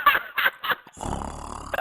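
A person snoring while asleep gives three loud, rough rhythmic snorts in quick succession, followed by a quieter, steady low rumble.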